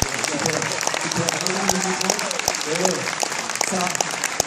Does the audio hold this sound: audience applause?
yes